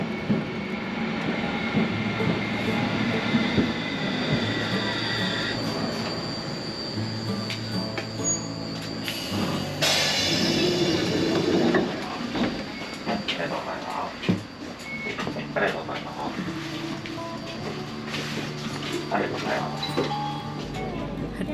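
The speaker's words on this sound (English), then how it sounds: "Trams are not so common in Japan, so it's exciting to be on board a tram" A tram rolls through snowy Sapporo, Japan, with loud metallic wheel squeal, rumbling and clacking along the rails, while voices are heard over the running noise.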